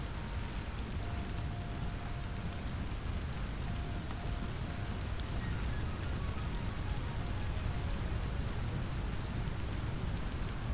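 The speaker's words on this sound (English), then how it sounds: "This rain is kind of loud." Steady, dense rainfall in the video game Satisfactory, a continuous hiss of drops on surfaces with a faint low rumble underneath, unbroken and fairly loud throughout with no talking.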